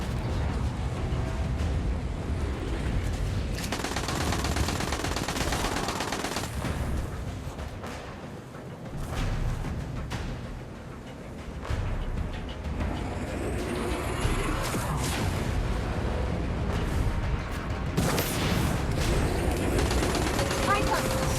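Gunfire and orbital bombardment in Destiny Rising: sustained loud barrages of shots and heavy booming impacts, dipping briefly before surging again, with a voice talking at points over the din.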